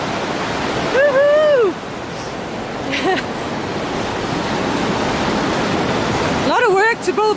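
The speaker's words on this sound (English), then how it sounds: "That is a lot of water being forced through a narrow area." Loud, steady roar of river water forced through a narrow channel along the Pacific Crest Trail, continuous broadband rushing throughout, with a voice calling out briefly near the start and again at the end.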